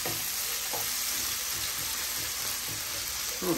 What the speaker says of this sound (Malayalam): ഇങ്ങനെ ഇളക്കി ഇളക്കി ഇളക്കി കൊടുത്തോണ്ടിരിക്കും ഇടയ്ക്കിടയ്ക്ക്